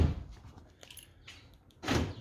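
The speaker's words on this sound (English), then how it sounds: "We're gonna make sure it opens with the handle on the inside." A Ford F150 Raptor door is opened from the inside handle, with a quiet click of the latch followed by a louder clunk and rustle as the door swings, close to the microphone.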